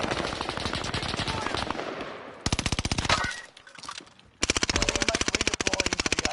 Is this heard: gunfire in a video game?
yes